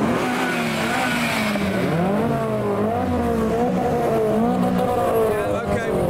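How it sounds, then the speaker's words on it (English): A Toyota MR2 rolls into a large JDM car show, its engine note rising and falling in a sustained, fairly loud drone with tire noise, under a busy crowd and passing talk. "Yeah, okay, we've heard the MR2 now."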